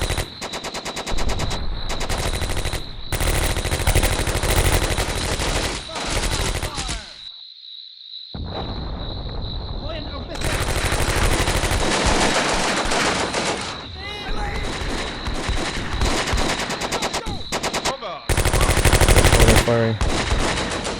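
Machine gun fire in the World War II strategy game Combat Mission: Beyond Overlord, heard as loud, sustained bursts broken by brief pauses and one near-silent gap.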